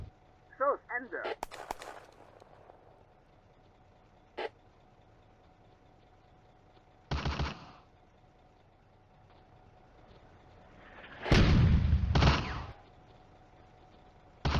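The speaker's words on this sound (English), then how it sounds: "The artillery fire for effect, and the panzers begin to push across the road." In the World War II video game Firefight, on the Eastern Front near Nesterenky village, separate bursts of gunfire and artillery fire come in a sparse sequence. A sharp crack is followed by heavier thuds and a long, loud rumbling blast over quiet engine noise.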